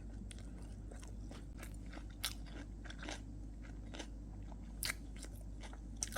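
Gimbap is chewed at close range, with soft, continuous crunchy bites and wet mastication over a low steady background, plus a few sharper crunches.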